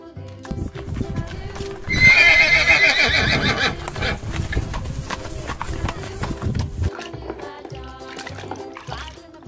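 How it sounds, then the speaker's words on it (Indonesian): Horse neighing and clip-clopping hooves in Jurassic World Evolution 2, a loud whinny rising over steady hoofbeats with game music and effects layered throughout. "Wow, kuda."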